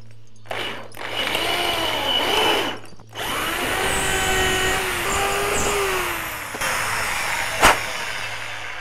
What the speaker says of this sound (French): Donc là, on va élargir les trous qu'on a fait.